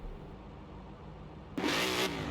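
After a quiet, low hum, a Ford Mustang GT engine suddenly revs up loudly and roars close by for a moment before easing slightly.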